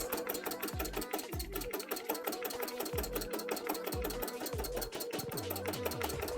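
A sewing machine stitches zigzag embroidery onto a cosplay panel, a fast, even mechanical chatter running continuously and fairly quietly, with regular low thumps marking the rhythm.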